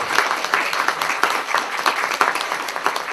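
A school audience applauds as a school is honoured with a European school title for the third consecutive time, a dense, steady wash of many hands clapping at moderate volume with no voices.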